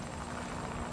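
A model helicopter lands with a steady, loud rotor and engine whir that holds constant through a short stretch, with no one talking.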